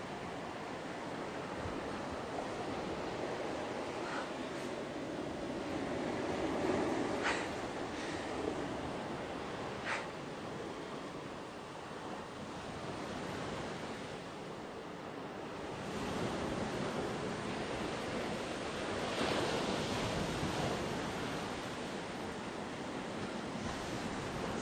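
Ocean waves wash steadily onto a sea shore, a continuous broad surf roar that swells and recedes with some wind noise, with no voices.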